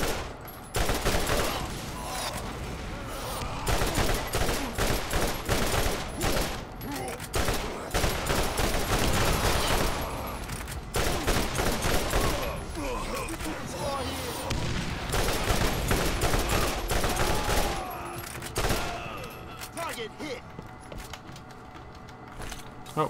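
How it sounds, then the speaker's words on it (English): Rapid rockets and heavy gunfire in the Borderlands video game, a dense, loud barrage of launches and blasts running almost continuously for about twenty seconds before thinning out near the end. "Whoa, something is shooting rockets."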